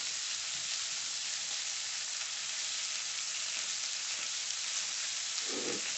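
Steady, close frying sizzle of orange BBQ ribs in a hot pan, a dense crackling hiss that holds evenly throughout, with no voices.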